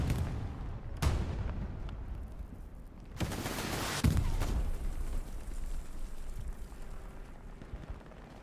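Heavy gunfire and explosions in the Hell Let Loose video game during a competitive match on a Stalingrad map, with sharp booming blasts around 1, 3 and 4 seconds over a continuous rumble of battle.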